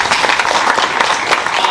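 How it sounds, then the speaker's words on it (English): An audience applauds steadily for Mr. Sholake at the African Business Ball, a dense, continuous wash of hand clapping that stays fairly loud throughout without any talking. "Please clap for Mr. Sholake."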